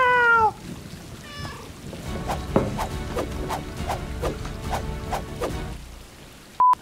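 A cat meows in the video game Stray, two clear meows close up at the start, followed by a steady series of light rhythmic taps and a brief high tone at the end.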